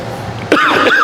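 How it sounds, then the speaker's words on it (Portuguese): A single sharp, close cough bursts out midway during a lecture, harsh and raspy, after a stretch of quiet background. "O pessoal do vídeo vai sofrer com essa tosse"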